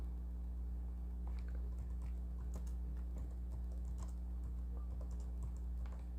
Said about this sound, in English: I'm just going to type something.